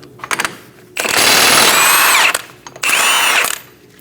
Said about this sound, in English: Using a 32mm socket, we're going to remove our axle nut.